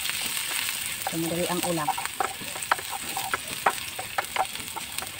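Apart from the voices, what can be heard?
onion and ginger sautéing in a pan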